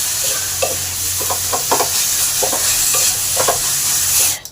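Grated raw jackfruit frying in a pan for Bengali echorer halwa, a steady loud sizzle broken by repeated scraping stirs of a spoon against the pan, with a low hum underneath and a sharp clatter at the very end.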